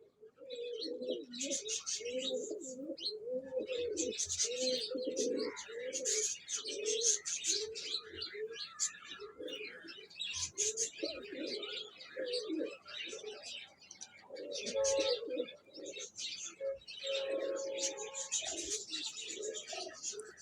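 Pigeons cooing in a pigeon club loft of Parwazi flying pigeons, repeated soft rolling coos in overlapping rhythm with occasional chirps, close by, while someone talks over them.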